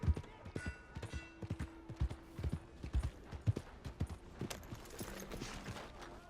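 Horse hooves clip-clop at an unhurried walk in the Red Dead Redemption 2 video game, a rhythmic series of close hoof thuds on hard ground, moderately quiet, with a brief whinny and faint voices in the background.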